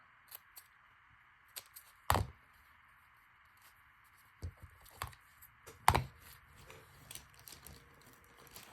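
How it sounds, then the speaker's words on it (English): A few sharp snips from small scissors cutting paper, with quiet rustling and handling noises between the cuts. "Cut that off flush with the top here."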